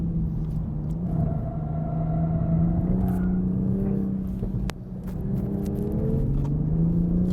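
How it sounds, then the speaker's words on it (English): A 2020 Toyota Supra's engine drones and revs under load, with the pitch dropping briefly mid-run during an upshift before climbing again as it keeps accelerating in a straight line. "I'm gonna upshift in a straight line here, see what happens."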